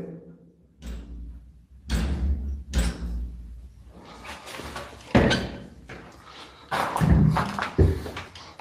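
A door in a house is pushed and bangs several times, a series of loud, uneven thumps and knocks spaced a second or two apart, with shuffling and movement noise between them.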